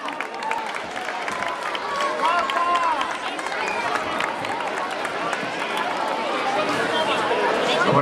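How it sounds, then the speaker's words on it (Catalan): Audience applause at a gathering of Valencian schools in Biar, a steady wash of many hands clapping with crowd murmur throughout, loud and sustained. "Un fort aplaudiment"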